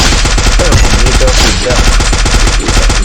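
Loud, sustained rapid-fire gunfire in a video game rattles in continuous bursts throughout, with faint voices underneath.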